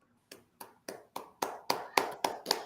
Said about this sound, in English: Give a Stoked podcast round of applause to Shannel Wheeler